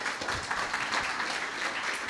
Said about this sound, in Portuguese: Vamos aplaudir Jesus pelo pastor nisso aí, gente.